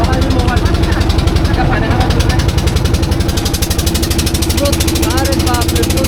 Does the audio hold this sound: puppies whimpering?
no